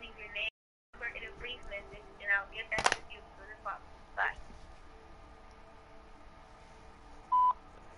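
Telephone dialing tones from a phone call in progress, a few brief beeps with people talking around them at moderate level.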